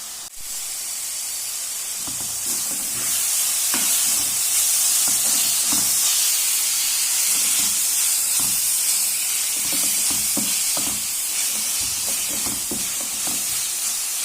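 Tomatoes frying for a green peas curry give off a loud, steady sizzle and steamy hiss, with soft stirring scrapes and bumps underneath throughout, no voices.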